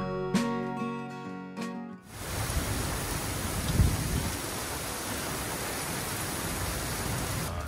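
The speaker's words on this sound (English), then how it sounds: "there's the thunder" Thunder rumbling low during a storm over a bay, heard from a boat on a mooring ball amid steady heavy rain and wind noise, after a short tonal sound at the start.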